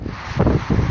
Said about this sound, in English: I'm not even sure if you can hear this because of how windy it is